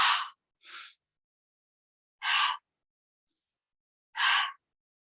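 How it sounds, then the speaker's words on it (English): Four forceful, breathy 'ha' exhales during qi breathing practice, each short and airy and separated by quiet pauses, with a faint tiny sound between the third and fourth. "we add the sound of ha"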